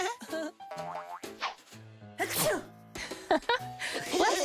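A cartoon sneeze from a children's animated nursery show, a bouncy springy sound set among bright musical tones and playful cartoon voices.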